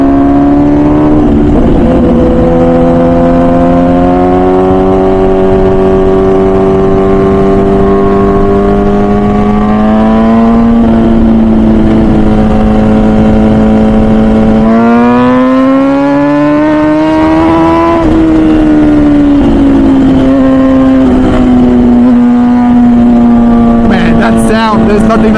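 An MV Agusta Brutale 1000 RR naked superbike, rated at 215 hp, revs hard around the Nürburgring, its engine note loud and close, climbing and falling through gear changes for the whole stretch.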